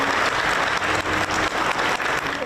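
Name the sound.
applause inside the Museo de Antioquia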